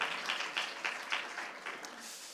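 A church congregation applauds during a Sunday service, giving a moderate run of clapping that rises in soft repeated bursts and carries on steadily, with faint voices underneath.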